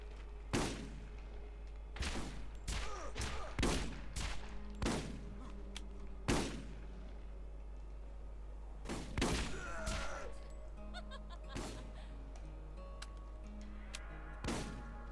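Video game gunfire from Borderlands: loud, sharp shots fired in irregular bursts and single cracks, some close together, each with a brief ringing tail over faint ambient game sound.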